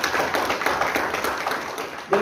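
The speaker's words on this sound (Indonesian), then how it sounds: "Tepuk tangan buat Tuhan Yesus." A church congregation at a Sunday service claps steadily, a brisk patter of many hands near and loud throughout, ending in a sharper burst.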